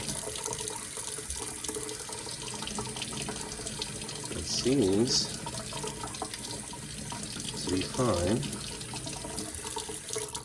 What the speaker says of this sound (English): still got flowing water